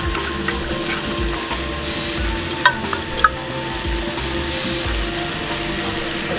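Onions fry in a pan with a cinnamon stick as turmeric is stirred in, giving a steady close sizzle. A few scraping clicks from the spoon stand out now and then. No one speaks.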